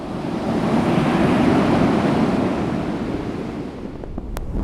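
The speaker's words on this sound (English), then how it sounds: "The winds are about 55 kilometers an hour and the waves 10 meters high." Ocean waves surge and crash while strong wind roars across the microphone during an Arctic storm at sea, a continuous heavy wash that swells and then eases slightly toward the end.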